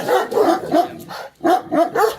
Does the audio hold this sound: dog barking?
yes